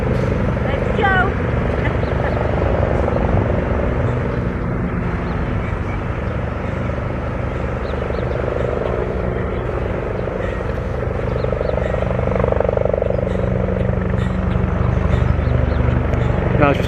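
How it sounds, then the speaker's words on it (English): Steady throbbing drone of a helicopter flying overhead in Washington DC, loud and continuous with slight swells, while a person talks over it. "it's just a regular helicopter"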